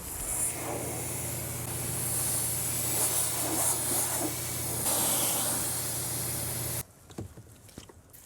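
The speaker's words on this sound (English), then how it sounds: "foaming up the wheel bucket like this is going to help when you're washing the inner wheel barrels with your wheel brush" A foam sprayer foams up a wheel-washing bucket with a loud, steady pressurized hiss close by for several seconds, then cuts off into quieter scattered clicks and handling sounds.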